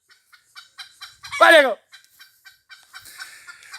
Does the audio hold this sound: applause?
no